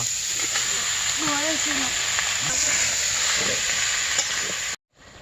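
Chopped bottle gourd sizzles loudly in a pan over a clay stove, a dense continuous frying hiss with stirring, while voices and a bird call sound in the background before it cuts off abruptly.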